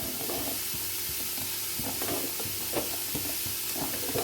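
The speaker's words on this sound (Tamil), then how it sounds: "இப்போ பாருங்கள் குழம்பு நல்லா கொதி வந்துருச்சு" Thakkali kulambu, a tomato gravy, bubbles at a steady boil in a pot over a village fire, with soft popping and a continuous simmering hiss close by, nobody talking.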